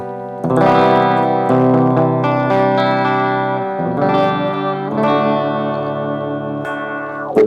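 Electric guitar chords through a preset chorus and echo effect on a GTRS S900 guitar, ringing out shimmering, sustained and layered, with a brief pick scrape at the end.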